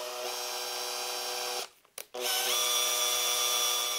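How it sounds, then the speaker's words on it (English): An electric drill press bores holes for a speaker crossover build, a steady high-pitched motor whine that stops briefly, then spins back up at a slightly different pitch, close and with no talk. "I'm going to drill those on the drill press and then tap them using just my handheld drill"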